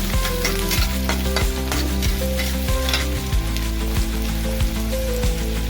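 Chopped medium onion sautéing in a pan for aloo methi, a steady loud sizzle and fry with rhythmic stirring scrapes throughout and no talking.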